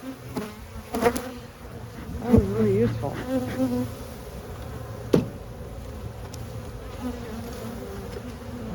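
Steady buzzing from many honey bees around a hive fills the air, with a few louder passes up close and a brief spoken phrase partway through.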